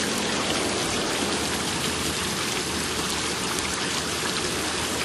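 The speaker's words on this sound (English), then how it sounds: "Another cool water feature, part of the water feature here, is this water fountain" A garden water fountain splashes steadily beside gnome statues, a continuous close, bright patter of falling water with no voices over it.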